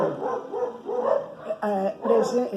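Dogs bark and yip in short bursts close by, with a few quick yelps overlapping one another and a person talking at the same time.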